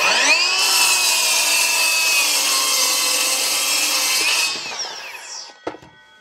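Power saw cutting through an 18 mm thick wooden board, a loud steady whining cut lasting about four seconds, then the blade spinning down with a few light clunks at the end.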